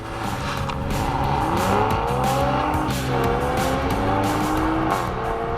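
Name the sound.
Toyota Supra and Honda Civic Type R accelerating in drag race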